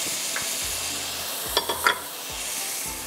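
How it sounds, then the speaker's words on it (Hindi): Fresh green fenugreek leaves frying in a pan for a mutton methi dish, a steady broadband sizzle with a few sharp utensil scrapes and clinks near the middle, no talk. "बस इसको थोड़ा सा भूनना है"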